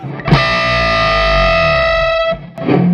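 An electric guitar plays through a Cornford Hellcat amp, dropping to a low note. A driven, gritty tone sustains loud and close after a pick attack, then is choked off, and another pick attack starts just before the end.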